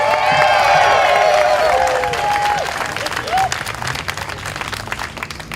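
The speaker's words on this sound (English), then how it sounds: "Give up a round of applause one more time for..." A crowd at a live-streamed rally applauds and cheers, with loud whoops and shouted voices riding over dense clapping that gradually fades.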